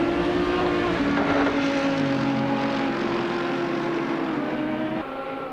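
GT3 race cars, an Audi and a Mercedes, racing down Dunlop Straight at Donington Park in Assetto Corsa, give a loud, steady engine drone whose pitch holds and then shifts slightly as gears change, with no voices.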